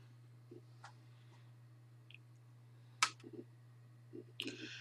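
A few sparse, faint computer mouse clicks in a quiet room with a low steady hum underneath, the sharpest click landing near the middle.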